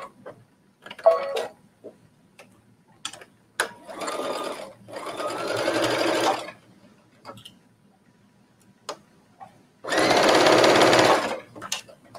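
Sewing machine stitching binding onto a bathing suit coverup, heard in several distinct bursts of rapid mechanical whirring separated by pauses, with small clicks and handling taps in between and no talking.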